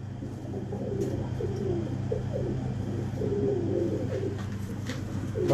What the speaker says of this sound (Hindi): जबकि इस सियालकोटी कबूतर का बच्चा है।